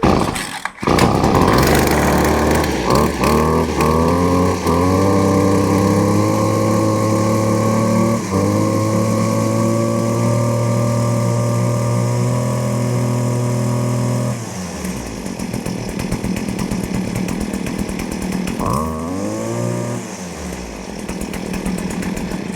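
A Stihl FS56RC-E gas string trimmer's small two-stroke engine screams at high revs, holds steady, then drops to a lower idle before briefly revving up and down again.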